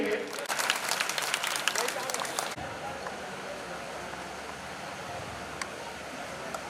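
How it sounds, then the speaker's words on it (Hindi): Audience applause at a Rajput Kshatriya community oath-taking ceremony, welcoming a senior guest: dense clapping for about two and a half seconds that then stops abruptly, leaving quiet room noise. "इनके लिए आप सभी सामाजिक बंधुओं से निवेदन है कि तालियों से स्वागत करेंगे।"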